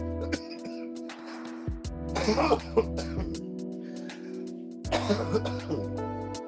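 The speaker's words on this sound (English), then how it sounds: "There's going to be a lot of coughing because this is huge." Several bursts of coughing and throat clearing from smoking weed, close and fairly loud, separated by short pauses with a steady background hum.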